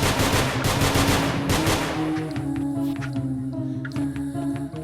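Rapid pistol gunfire from the video game Nongunz, with dense bursts of snappy shots at first, then lighter, scattered pops over a droning game music track.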